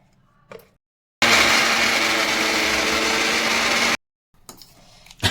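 Mixer grinder grinding dried red chilies into chili powder, one loud, steady whirring run of about three seconds that starts and stops abruptly, with quiet handling noises before and after.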